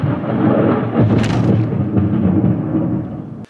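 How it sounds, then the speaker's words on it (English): Thunder rolls during a storm, a long loud rumble with a sharper crack near the start, fading out after a few seconds. "I was just waiting for the next lightning or thunder."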